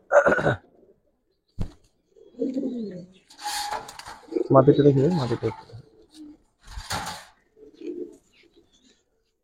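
Black Giribaz pigeons in a loft give soft, throaty coos in short bursts between stretches of someone speaking nearby.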